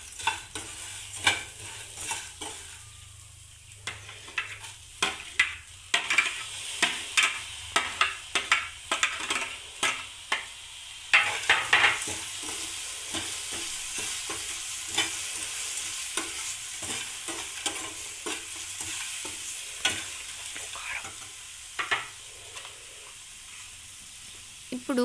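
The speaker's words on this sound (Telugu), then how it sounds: "ఇప్పుడు అందులో మనం ముందుగా కట్ చేసి పెట్టుకున్న ఉల్లిపాయ ముక్కలను, టమాటా ముక్కలను, పచ్చిమిర్చి ముక్కలను వేసి బాగా కలుపుకోవాలి" Chopped onion, tomato and green chili are stirred into maggi bhel in a hot pan, a spatula scraping and tapping in quick irregular strokes over a soft ongoing sizzle, close up.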